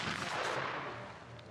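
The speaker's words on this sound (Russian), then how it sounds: "И 3-й удачный выстрел." A single shotgun blast at a men's trap shooting championship in Russia, 2017, rings out as a broad, fading report that decays over a second and a half, heard from some distance and fairly faint.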